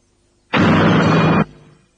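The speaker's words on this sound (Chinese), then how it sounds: "没有检查氢气的纯度，就在导管口处直接点燃，结果会发生猛烈的爆炸" A hydrogen gas explosion ignited at the delivery-tube mouth of a generator freshly charged with zinc and hydrochloric acid, with the gas purity unchecked. One loud, roaring blast lasts about a second, then fades quickly.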